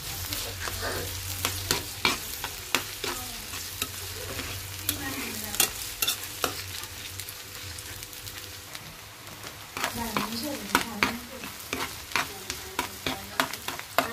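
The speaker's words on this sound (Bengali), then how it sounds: "এখন আমি আলু ভর্তার জন্য পেঁয়াজ ভাজবো, সরিষার তেল দিব।" Onions fry in mustard oil in a pan for potato mash, a steady crackling sizzle broken by sharp scraping stir strokes that come in clusters, close and fairly loud, with faint voice-like tones in the background.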